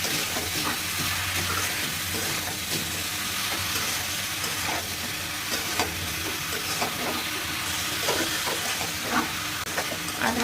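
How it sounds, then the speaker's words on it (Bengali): Bottle gourd sizzles steadily in a frying pan while it is stirred slowly, a continuous close hiss broken by soft scraping and clacking stir strokes, with no voices. "এভাবেই আপনারা আস্তে আস্তে নেড়ে চেড়ে রান্না করতে থাকবেন"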